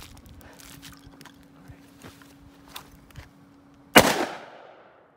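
A single sharp gunshot from a newly bought firearm cracks out close by at an outdoor range, loud and sudden, its report decaying over about a second after some quiet shuffling and footsteps.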